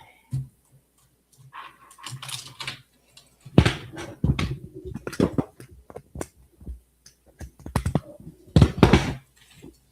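A computer keyboard being typed on in bursts, with irregular loud clacks and heavy key strikes that come and go, mixed with other knocks and thumps.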